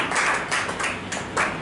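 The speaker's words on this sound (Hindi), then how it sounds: "एक जोरदार तालियां" Audience clapping for a poet at a national poets' gathering, arriving in several short swells of moderately close applause with no talk over it.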